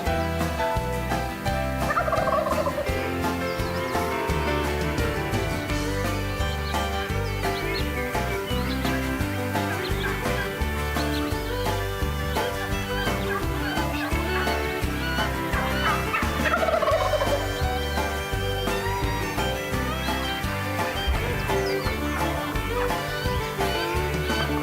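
Wild turkeys gobbling in Nebraska canyon country, repeated loud gobbles from several birds overlapping at varying distances over an otherwise quiet outdoor background, no speech.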